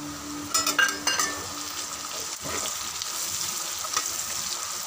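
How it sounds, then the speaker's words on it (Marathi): Garlic frying in a pan for a methi and potato dish, a loud continuous sizzle with clattering spatula scrapes and stirring knocks early on, then a steadier hiss. "लसूण टाकून घेऊया, तो चांगला फ्राय करून घेऊया"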